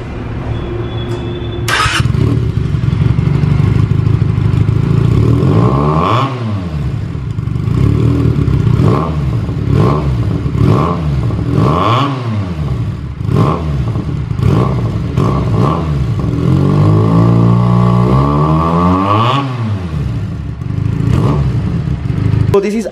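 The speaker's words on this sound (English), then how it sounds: "Benelli is always known for their exhaust note." A Benelli TNT 300i motorcycle with an aftermarket Exil exhaust revs repeatedly, rising and falling in pitch with loud, throaty bursts and a rough idle between pulls, heard up close.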